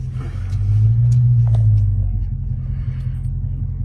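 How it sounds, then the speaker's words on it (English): A car drives along with a loud, close low rumble that swells briefly then settles to a steady drone, with faint background sounds. "So we're gonna drive the vehicle."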